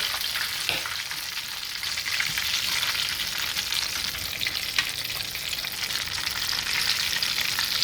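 A second batch of cayenne lemon pepper garlic chicken wings frying in oil, a loud dense continuous sizzle with fine crackle throughout, close and unbroken, no speech.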